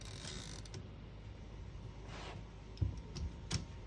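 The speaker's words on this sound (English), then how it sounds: "I'm just going to test those out real quick by hitting the tab button, and it stops at each one of those" A 1947 Remington Noiseless Model 7 typewriter's carriage sliding on the tab key and stopping, giving a soft mechanical creak and slide followed by a few faint, closely spaced clicks and thuds, quiet and close.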